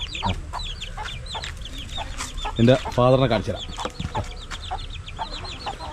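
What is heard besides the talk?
hen clucking with chicks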